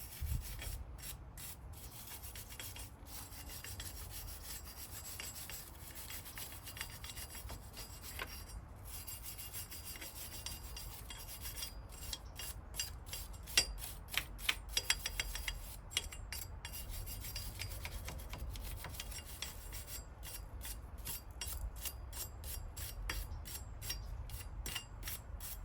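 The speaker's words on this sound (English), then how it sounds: "I'm using a little wire brush." A small wire brush scrubs caked mud off the front brake parts of a Honda TRX500 Foreman ATV. The rasping scrub repeats in a steady rhythm of strokes, close and quiet, with no voices.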